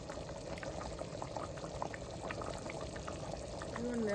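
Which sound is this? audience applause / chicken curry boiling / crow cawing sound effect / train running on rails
chicken curry boiling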